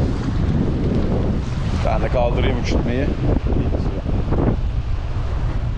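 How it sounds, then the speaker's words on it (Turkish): Strong wind roars steadily across the microphone at the kite beach in Akyaka, Turkey, a constant loud buffeting that runs the whole time while someone talks over it. "Rüzgar biraz şiddetini arttırdı."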